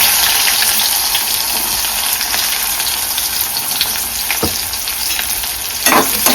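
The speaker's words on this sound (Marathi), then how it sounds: "आता मी कांद्याची फोडणी देते" Onions tipped into hot oil for tempering sizzle loudly and continuously up close, with occasional stirring and clinks and a sharper burst near the end, no talking.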